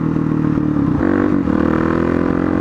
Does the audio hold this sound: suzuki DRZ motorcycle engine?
yes